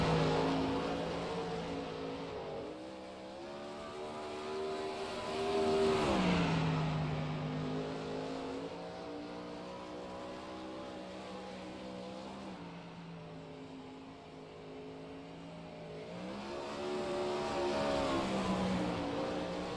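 A midget race car runs a qualifying lap on a racetrack, its engine droning and rising and falling in pitch as it revs through the corners, faint and distant.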